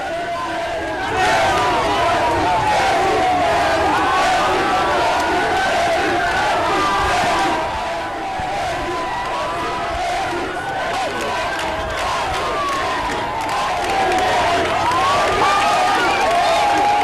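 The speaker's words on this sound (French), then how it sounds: "La population le comprend en l'acclamant spontanément" A large crowd spontaneously acclaims and cheers Guinea's president Alpha Condé, a dense continuous roar of voices and shouts that holds steady throughout, with occasional swells.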